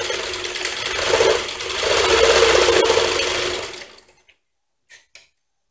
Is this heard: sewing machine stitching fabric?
yes